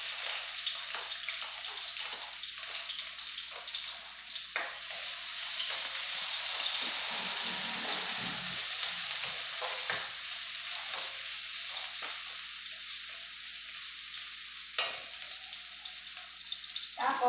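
Onion frying in a pan gives a steady, loud sizzle for the whole stretch, with stirring scrapes and clinks scattered over it and no voices.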